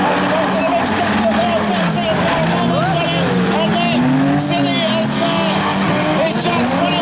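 Race car at Ringwood speedway sweeping around the oval toward turn one, engine drone rising and falling steadily and loud, with a commentator talking over it throughout.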